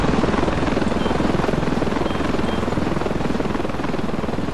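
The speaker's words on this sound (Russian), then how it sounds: "вертолет уже не попадаю" Helicopter in the video game Ravenfield, its rotor beating as a steady, loud rapid chop that fills the whole stretch without pause.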